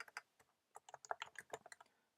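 Quiet, quick clicking of keys on a computer keyboard in short irregular bursts while typing Java code, close by with no voices.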